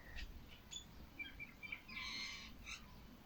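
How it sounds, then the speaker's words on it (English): Birds chirping outdoors, a few short faint calls and tweets scattered over quiet background. "Can you even hear the birds?"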